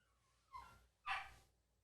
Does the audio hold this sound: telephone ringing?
no